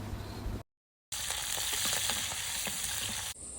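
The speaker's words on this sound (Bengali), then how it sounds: "কালো জিরা দেওয়ার পরপরই চিংড়ি মাছটা অ্যাড করে দিচ্ছি। সামান্য পরিমাণ হলুদের গুঁড়া আর সামান্য লবণ দিয়ে এটাকে কিছুক্ষণ ভেজে নিব।" Shrimp with nigella seeds, turmeric and salt fry in hot oil, giving a close, steady sizzle that breaks off briefly and then resumes loud and continuous.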